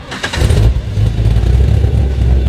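A Mazda MX-5 fitted with a 525 hp LS376/525 V8 with a hot, lumpy cam revs hard close by, its deep, loud engine roar rising and holding steady throughout.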